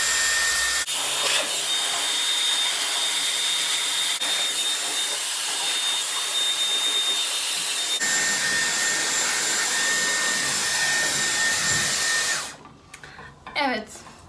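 A Dyson Airwrap blows in a loud, steady high-pitched whir while drying hair, shifting pitch partway as the setting changes, then cutting off near the end as handling noises follow.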